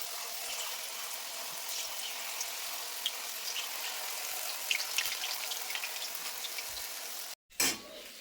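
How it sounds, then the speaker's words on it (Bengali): Eggplant cut into long finger strips frying in hot oil in a wok, giving a steady soft sizzle and crackle throughout that is cut by a brief break near the end. "তেল গরম হয়ে গেছে, আর সরু সরু বেগুন লম্বা লম্বা ছিল, আমি ফিঙ্গারের মতো কেটে বেগুন খাচ্ছি, কড়াইতে দিচ্ছি।"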